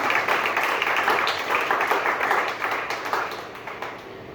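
A church congregation applauds and cheers in a sustained wash of clapping that gradually fades toward the end.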